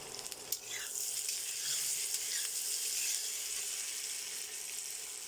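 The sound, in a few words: peas added to a pan and frying, sizzling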